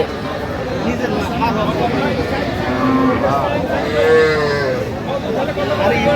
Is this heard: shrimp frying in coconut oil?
no